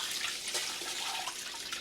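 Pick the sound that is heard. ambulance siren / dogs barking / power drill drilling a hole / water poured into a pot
water poured into a pot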